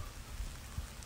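Steady rain falls outdoors in a constant broadband hiss with soft low thumps of heavier drops, loud and close with no voices.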